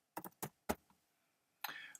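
A few quick keystrokes on a computer keyboard, close and fairly quiet, followed by a brief short burst of clicking.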